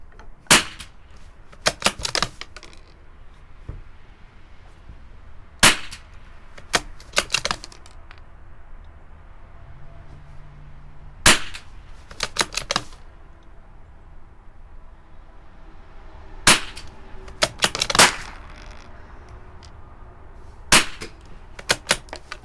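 Sharp, dry cracks from a Marlin XT-22 .22 rifle firing CCI Standard Velocity ammunition at 50 yards, about a dozen spaced shots, some in quick pairs, with quiet stretches between them outdoors.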